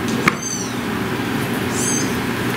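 A cat worked up on catnip gives two drawn-out, high meows about a second apart, over steady background noise.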